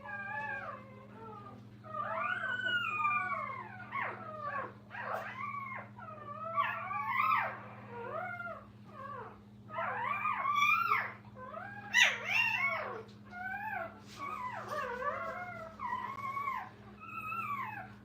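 Puppies in a training kennel yelp, whine and howl in a long run of overlapping cries and barks, fairly close, over a steady low hum, with no talk.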